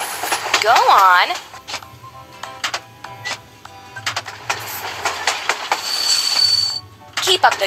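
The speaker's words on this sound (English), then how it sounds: "The train has arrived." A train pulling into a station in a children's construction video game, with rhythmic clacking and rail noise, a squealing chime at the start and a brief tone near the end, under a voice speaking.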